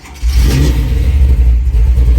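A restored 1972 Chevrolet Chevelle with a 496 big-block V8 revving up from idle into a deep, loud, throaty roar that holds with a rumbling, slightly lumpy burble, heard close up and without talking.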